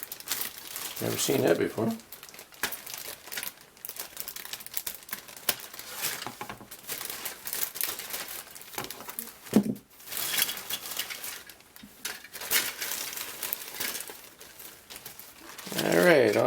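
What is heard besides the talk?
opening plastic bag of model car kit parts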